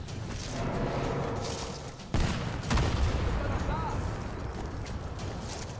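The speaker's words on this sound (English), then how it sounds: "Those were grenades." Grenades explode in the video game Sniper 4, with a sharp blast followed by a second heavy burst amid constant battlefield rumble and clatter, while players talk over the action.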